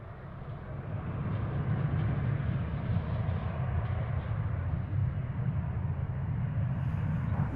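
Embraer E175 regional jet at Dallas Fort Worth airport, a steady loud jet engine roar that swells in over the first second and then holds, with no voices over it.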